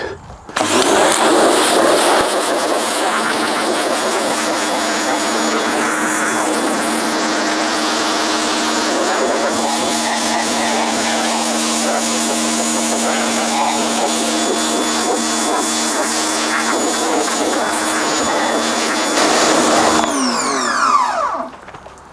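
A V-Tuf pressure washer runs steadily and loudly for about twenty seconds as it rinses off a surface, a continuous broadband motor whine and water-spray hiss with no talking.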